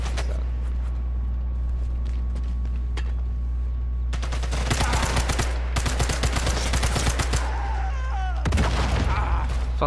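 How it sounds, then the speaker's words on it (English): In the video game Sniper Elite 5, a large explosion erupts amid rattling bursts of machine-gun fire and gunshots, loud and close with sharp cracks and booms after a quieter stretch. "That was a big explosion."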